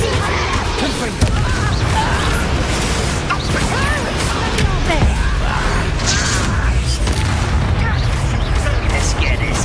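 Blasting spell explosions and combat effects from the Hogwarts Legacy video game, with loud booms, crashes and creaking mechanisms layered densely over a continuous battle soundscape.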